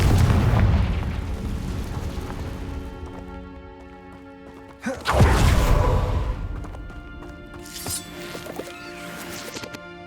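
A Confringo fire-spell blast in the Hogwarts Legacy video game, heard as a loud booming explosion with a long rumble. A second sharp blast follows midway and trails off into game sounds.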